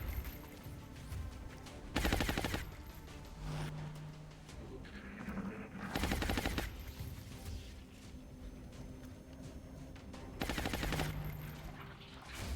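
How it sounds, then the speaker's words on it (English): Bursts of suppressing gunfire in the video game Long War ring out in three loud volleys of rapid automatic shots, separated by quieter stretches of game ambience. "Suppressing fire on target"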